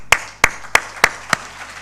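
Five separate, sharp claps come at a slow, even pace and ring close and loud, with a short fade after each. It is one person clapping rather than a full crowd's applause.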